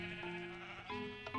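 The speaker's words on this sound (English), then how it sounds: "You killed my sheep." A sheep in the Minecraft video game bleats in a clear, wavering tone, with a second short bleat close behind it, sounding over a steady game background hum.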